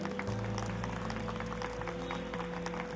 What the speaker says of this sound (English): Clap for him, everybody.